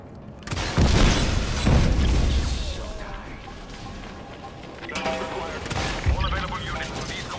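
Explosions and gunfire on an oil rig in the video game Just Cause 3, two heavy booms early followed by rumbling debris, crackling shots and another blast near the end, with a voice talking over it.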